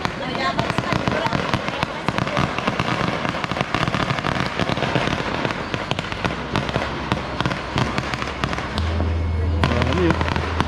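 New Year fireworks and firecrackers crackle and pop in dense, rapid volleys at close range, with some louder bangs, while people talk in the background.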